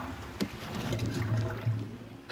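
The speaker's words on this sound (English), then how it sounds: "We flush ourselves here." A toilet flush from a Harry Potter film scene, a continuous rushing, gurgling wash of water that fills the short stretch at steady loudness, with no talk over it.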